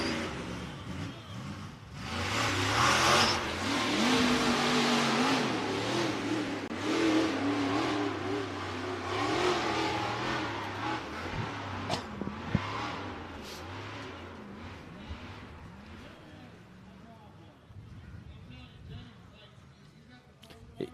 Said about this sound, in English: It's insane to absolutely how loud these engines are, how much power they're putting out